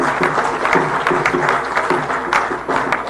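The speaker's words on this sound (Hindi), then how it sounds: "थावरचंद जी का भी ताली बजा के स्वागत कीजिए" Applause from a crowd welcoming ministers at a BJP virtual rally in Madhya Pradesh, a dense, continuous patter of clapping with regular louder pulses, close and fairly loud.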